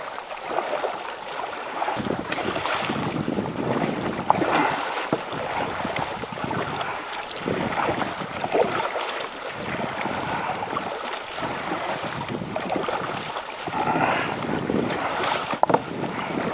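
A small motorboat crosses the open sea toward a lighthouse on rocks, its engine droning steadily under heavy wind buffeting and repeated thumps and splashes as the hull slaps through the waves.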